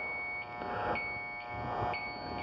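A steady electronic tank high-level alarm tone sounds continuously at moderate volume, with a faint pulsing rhythm and no voices, from an electrically heated tank system with two evaporators.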